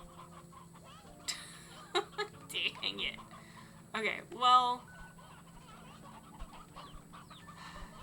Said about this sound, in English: There absolutely is a chicken outside of the pen.